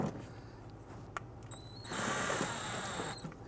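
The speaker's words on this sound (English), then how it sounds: "Now if you're using an impact gun like we are, you just want to snug these here." An impact gun briefly whirs and buzzes while snugging screws into the fender liner of a 2008-2017 Buick Enclave, a short, faint high-pitched burst lasting about a second and a half amid quiet workshop noise.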